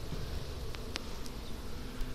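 A bee buzzes near a hive during a summer hive inspection, giving a faint, steady drone with a few soft ticks over a low outdoor background. No voices.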